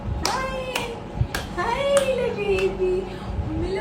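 A baby girl claps her hands several times in sharp, separate slaps, with a voice talking softly over and between the claps.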